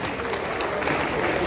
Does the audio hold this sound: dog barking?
no